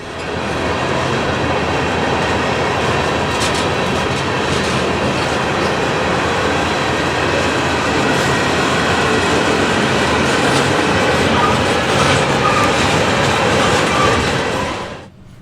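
Manifest freight train led by a Union Pacific locomotive rolling past, a loud continuous rumble of wheels and cars with faint clicking of rail joints throughout.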